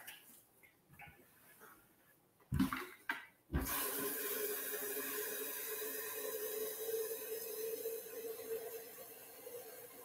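After a few brief knocks and clatters, a kitchen tap opens and water runs steadily into a container for making coffee, a close continuous hiss that fills the rest of the moment without talk.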